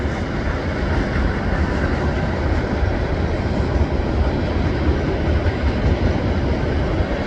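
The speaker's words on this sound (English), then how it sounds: "I don't know if this is going to be a really long train or not." A CN freight train with a DPU rolls steadily past at close range, a continuous loud rumble of wheels and cars that holds evenly throughout without letup.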